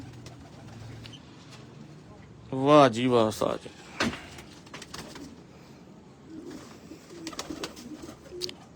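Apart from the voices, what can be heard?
Johnsirey breed pigeons cooing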